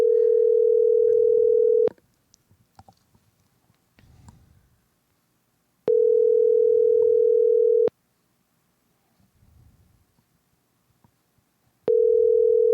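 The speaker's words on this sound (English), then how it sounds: "We're calling you right now." A steady telephone tone sounds in three separate two-second bursts with quiet gaps between them while a call is placed, faint background rustle filling the pauses.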